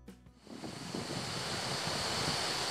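Strong stormy wind blasts across a bridge on the Lofoten islands, a dense roaring rush that builds after a brief quieter start and stays loud and steady, buffeting the microphone.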